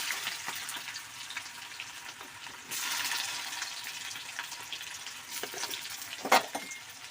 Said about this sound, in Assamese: পিঁয়াজখিনি অলপ ভাজি লৈছোঁ